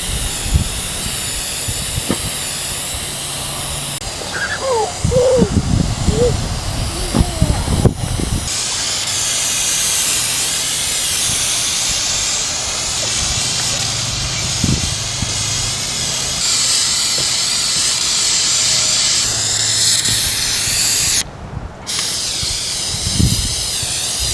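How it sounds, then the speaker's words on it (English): Gorilla waterproof patch-and-seal rubber coating hisses from an aerosol can onto a packable DIY canoe in long, loud, continuous bursts, with handling knocks and occasional faint voices underneath. "got pretty much the whole thing sprayed down with this rubber stuff"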